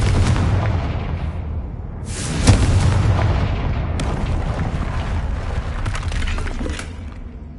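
Confringo spell explosion in Hogwarts Legacy: a heavy boom followed by shattering, breaking debris and a second crash, loud and close, rumbling on for several seconds with no talk.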